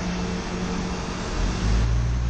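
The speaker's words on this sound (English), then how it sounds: "Watching the buses go by." City buses passing along a street, a steady engine and road rumble that swells louder toward the end as one draws closer.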